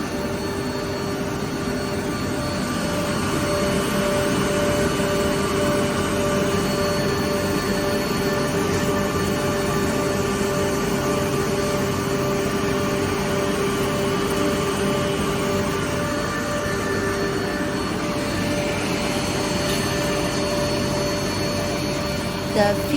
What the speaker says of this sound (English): It is more easy for feeding in bamboo toothpick sharpening machine.